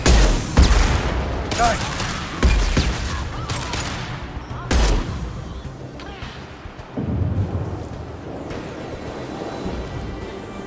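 Gunfire in the Mass Effect 2 video game, a string of heavy booming shots and bursts spaced irregularly over a rumbling combat background, with a voice briefly exclaiming.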